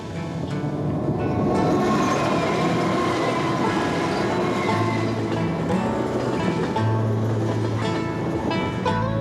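A Travelling Post Office mail train on the Irish Dublin route runs steadily throughout, giving a loud, continuous rumble with rail noise and faint wheel clatter heard from inside.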